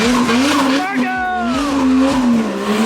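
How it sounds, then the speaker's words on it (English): A car doing a burnout at a shop, tires squealing in a loud sustained wail over engine roar, with voices shouting over it. "we've been doing burnouts"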